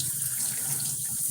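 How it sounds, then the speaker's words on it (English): A shower runs in a steady, hissing stream of water, loud and close, with no talk over it. "I'm definitely literally in the shower."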